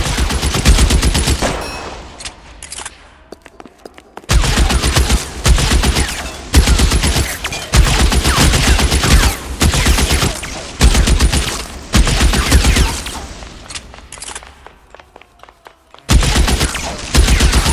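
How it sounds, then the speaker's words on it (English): Suppressing gunfire in the video game L.A. Noire: loud, sustained bursts of automatic and repeated shots in dense volleys, broken by brief lulls around the two- and sixteen-second marks, with no talking. "Suppressing fire!"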